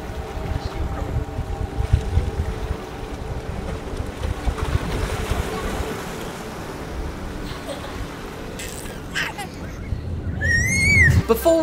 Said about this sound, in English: Because maybe the boat is moving.